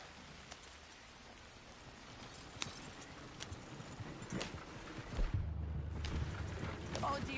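A horse in Red Dead Redemption 2 runs at a gallop with faint, rhythmic hoofbeats under low-level game ambience. A voice speaks over the hooves.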